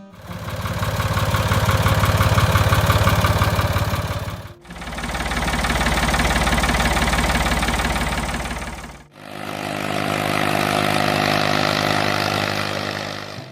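A Ford 3000 farm tractor engine runs with a loud, steady, heavy rumble in three continuous stretches, each separated by a brief break.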